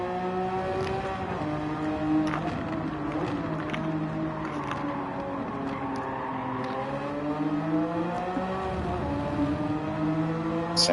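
A Porsche in a racing video game holds a steady, smooth engine drone that rises and falls slightly through gear changes, sustained and fairly even at moderate volume with no talk.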